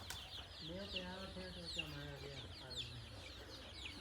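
Chicks and a hen cluck and peep in quick overlapping calls near the microphone at a backyard flock of about 400 chickens, with high chirps scattered throughout over faint background noise.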